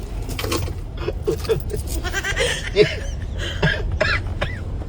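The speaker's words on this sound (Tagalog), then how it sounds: "Hindi na nawala-wala yung ubo mo." Several rough coughs and throaty, bleating-like vocal sounds come close together in a noisy setting, with some muffled voices in the background.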